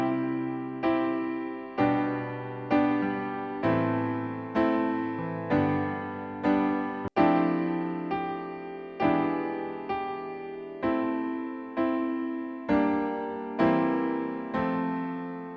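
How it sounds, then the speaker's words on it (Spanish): Sustained piano chords, struck roughly once a second and left to ring, with no melody on top; close, clear and steady with no voices. "Voy a hacer una comparativa, tocando acordes sin melodía."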